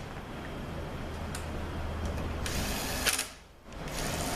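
Bolts are tightened on a Honda six-speed motorcycle engine, a steady mechanical whirr rising into a short louder burst of tool noise before a brief pause, close and moderately loud, with no voices.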